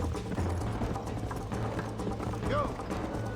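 Horse hooves galloping in the video game Red Dead Redemption, a rapid rhythmic clip-clop under continuous game ambience, with a person talking over it and a brief whistling sweep near the end.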